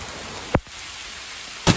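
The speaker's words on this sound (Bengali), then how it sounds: "কি পরিমাণ বৃষ্টি হচ্ছে দেখুন" Heavy rain pours during a Kalbaishakhi storm, a steady close hiss of downpour broken by two brief, sharp bursts of louder noise.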